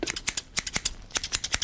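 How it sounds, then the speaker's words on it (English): Scissors snip in quick, crisp bursts, close and clear, about a dozen sharp cuts in an irregular rhythm with no voice over them. "focus simply on the sound the scissors are making"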